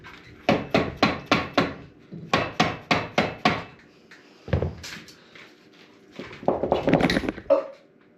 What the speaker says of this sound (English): Sometimes you can give it a little whack on the outside and a little pull and it might pop off.